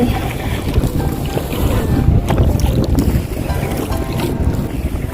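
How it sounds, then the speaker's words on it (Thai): Loud, steady wind buffets the microphone over water while paddling a boat, a continuous roar with faint sloshing beneath it and no talking. "วันนี้นะคะมีคลื่นลมเล็กน้อย"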